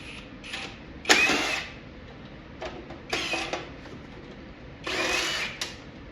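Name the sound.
power drill with attachment removing screws from an arcade cabinet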